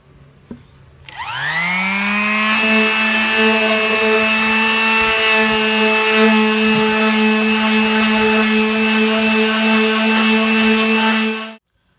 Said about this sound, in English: the very first thing I'm going to do is fire up my sander and attack this thing